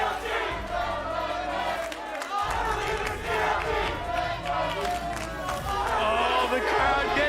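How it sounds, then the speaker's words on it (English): An esports arena crowd at a League of Legends playoff match, Team Liquid against Counter Logic Gaming, roars steadily with a dense, sustained wash of cheering and shouting that swells throughout, fairly loud with no pauses. "Oh, the crowd getting into it."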